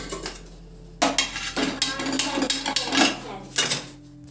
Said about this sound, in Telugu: స్టవ్ వెలిగించి పొయ్యి మీద పెట్టేసుకుందాం